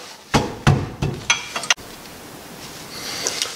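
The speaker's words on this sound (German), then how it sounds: "Den müssen wir irgendwie runterklopfen." Several sharp metallic hammer blows knock at a stuck rear brake pad on a VW Golf 5, five close strikes in quick succession followed by quieter workshop noise.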